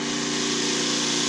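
A 2007 Honda Civic Si engine runs just after being started on a freshly installed starter motor, giving a steady, even drone that holds for a brief moment.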